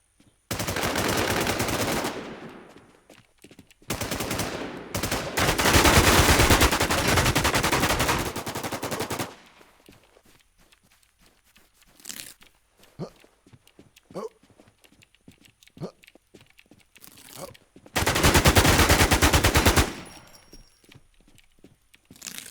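Bursts of automatic gunfire in the game Ezqelusia - Infest, loud sustained volleys in three main stretches separated by quieter gaps with scattered clicks and small sounds.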